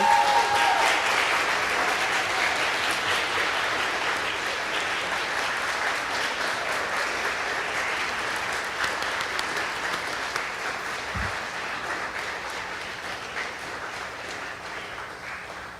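A long round of applause from a large crowd at a 2021 senior graduation celebration, loud at first and gradually easing off while the clapping continues throughout.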